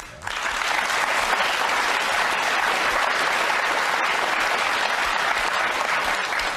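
Audience at a debate bursts into loud, sustained applause that starts abruptly and fills the hall evenly, a dense wash of clapping with no speech.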